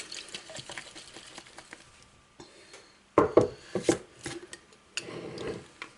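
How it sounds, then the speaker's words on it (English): A container holding a flour mixture for homemade yeast is shaken, giving close rattling, scraping bursts that grow louder and choppier after a quieter stretch of small handling sounds. "we're going to give this a good shake"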